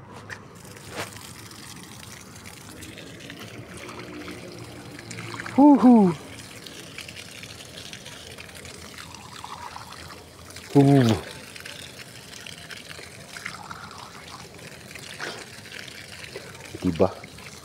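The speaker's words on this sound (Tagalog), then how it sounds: "May naabutan tayong gripo." Water pours from an outdoor tap at Mirador Heritage in Baguio City, a steady running trickle under ongoing conversation, with a few sharper bursts of voice standing out.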